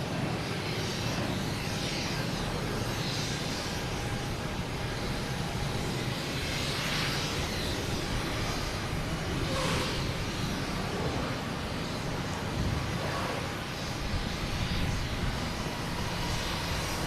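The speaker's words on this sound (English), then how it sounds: "there's Lufthansa. A380 on his way in." A Lufthansa Airbus A380 arrives at Boston Logan Airport, a loud continuous engine rumble and roar that swells slightly in places, heard alone with no talking.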